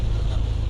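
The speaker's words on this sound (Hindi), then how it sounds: "ये जो बारिश की आवाज़ है" Heavy rain in a severe storm in Hillsboro, Texas, heard from inside a truck: a dense, continuous roar of rain and wind, loud and steady with no voices.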